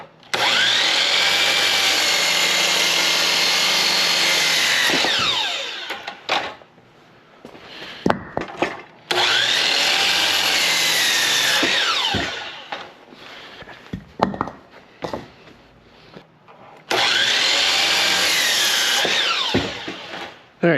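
Power saw cutting through 4x4 wood blocks for legs of a pallet firewood rack, three long loud sustained cutting passes with harsh whine, separated by quieter gaps holding clunks and handling knocks.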